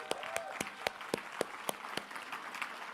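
Sparse, fairly quiet clapping from a small audience at a talk, with a few distinct loud claps standing out at an uneven rhythm.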